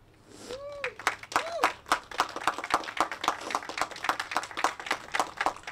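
Audience applause at a Pride flag raising and safe space program event, dense clapping from a crowd that holds steady for several seconds, with a brief voice near the start.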